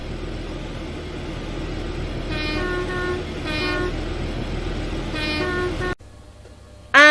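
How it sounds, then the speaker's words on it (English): A train in Roblox Grand Continental Railways rumbles steadily past, sounding its horn in three repeated toots before the sound cuts abruptly to a quieter interior, ending with a short rising electronic tone. "I'm off to catch this train home."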